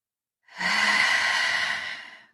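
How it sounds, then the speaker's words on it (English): A slow, deep breath drawn in and let out during a guided meditation, one long smooth airy exhale that rises and fades, close to the ear and alone. "take another nice deep breath in"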